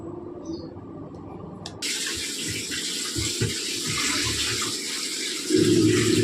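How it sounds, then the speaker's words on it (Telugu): Fish being washed under a running kitchen tap for a Sunday fish curry, a steady close gush of water that grows louder partway through as the flow increases. "ఇది ఇట్లా శుభ్రం చేసుకొని చేప కడిగి"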